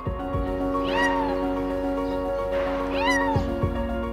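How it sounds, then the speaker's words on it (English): A small kitten meows repeatedly, high-pitched and plaintive, with two clear cries standing out over a steady background hum. "the man heard the cry of the little kitten"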